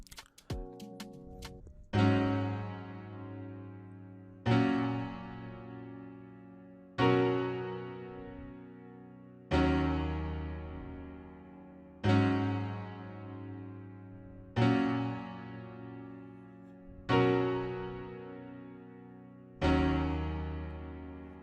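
Ballad Grand Piano preset from Nexus, part of an FL Studio beat remake, plays eight loud sustained chords in a steady rhythm, each struck about every 2.5 seconds and left ringing, with no talk.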